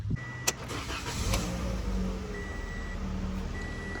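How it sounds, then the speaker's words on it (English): A Toyota Corolla engine cranks and catches after an alternator replacement, then settles into a steady low idle, with a couple of short electronic chimes over it. "Now let's go ahead and crank the car up"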